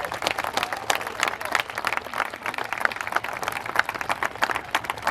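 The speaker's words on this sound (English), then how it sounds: "I would like us all now to send a big round of applause 25 metres into the air to our high diver" An outdoor audience applauds a high diver perched on a 25-metre platform, with dense crowd clapping and sharp individual claps standing out, holding steady for about five seconds.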